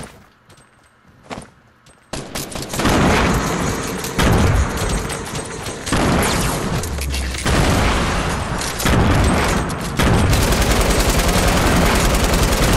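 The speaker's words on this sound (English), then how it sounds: "I'm gonna open with some grenades pretty soon" Grenade explosions and gunfire in the video game Fortnite during a squad raid, with heavy booms and rapid, continuous bursts of shooting that stay loud and dense throughout, and no talking over them.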